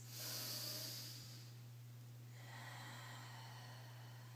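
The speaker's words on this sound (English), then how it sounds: "Take a couple deep breaths." Two slow, deep breaths, an inhale then an exhale, close and soft, taken alone in a quiet room with a steady low hum underneath.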